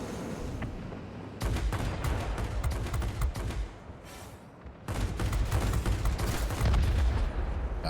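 Aircraft machine guns firing in World of Warplanes, a Japanese Navy plane shooting in long rapid bursts with a brief lull between them, loud and close with a background engine drone.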